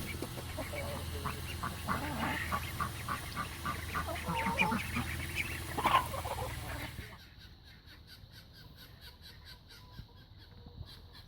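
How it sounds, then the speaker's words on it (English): Young Pekin ducks, eleven weeks old, calling and quacking together in a busy flock, a dense overlapping chorus that is close and fairly loud before dropping to sparser, quieter calls. "here they are, our ducklings, or were ducklings, at 11 weeks and 1 day."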